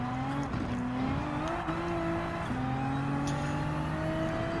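Race car engine in the Gran Turismo 7 video game, held at a steady high drone with rising and falling pitch as it upshifts through a hillside chicane at Circuit of the Americas, loud and continuous with no talk.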